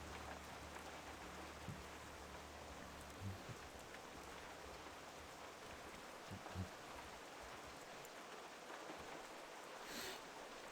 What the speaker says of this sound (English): One thing I do care about, the rain in Stranglethorn Vale.